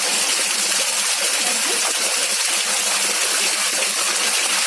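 Water pours steadily over a triangular notch weir in a flow channel, a loud, constant broadband rush with no breaks and no voices.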